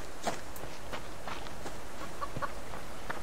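A chicken in the survival game Subsistence clucks softly in short scattered notes, with light footsteps over a steady outdoor ambience.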